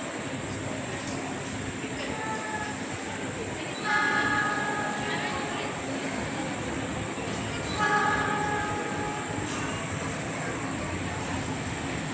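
The Wijaya Kusuma passenger train passes close by in Indonesia, a loud continuous rumble and rail roar filling the whole clip, with two brief swells of squealing wheel noise.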